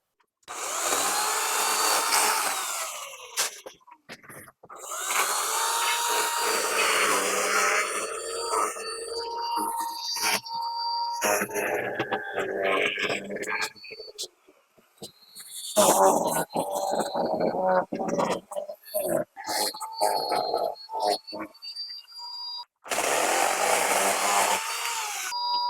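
A chainsaw fitted with an UPFOREST saw chain cuts palm fronds outdoors, its engine revving loudly in long bursts, dropping to idle and gaps between cuts, then roaring up again.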